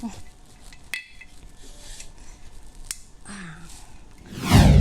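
A pressure cooker lid is opened and cookware is handled after cooking beef tripe stew: sharp metallic clinks and scrapes, then a louder rushing burst at the end. Quiet background throughout.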